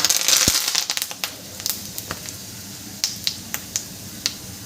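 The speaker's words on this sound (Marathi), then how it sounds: "आता यामध्ये आपल्याला कढीपत्ता घालून घ्यायचा आहे" Curry leaves hit hot oil with garlic in a pan, a loud initial burst of sizzle and spatter that quickly settles into sparse sharp crackles and pops, close up with no talking.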